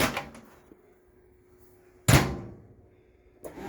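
A microwave door in a 2021 Forest River Wildwood Lite travel trailer clicks open and then shuts with a sharp thunk, followed by another latch click near the end, in an otherwise quiet room.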